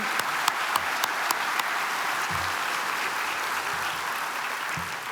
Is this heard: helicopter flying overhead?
no